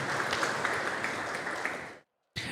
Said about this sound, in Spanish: Fuerte el aplauso para Ceci